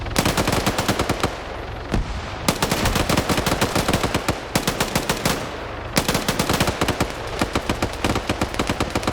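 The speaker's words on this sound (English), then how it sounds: "And Roderick has a machine gun." Rapid automatic machine gun fire in a competitive video game match, loud and nearly continuous, broken into long bursts with brief gaps.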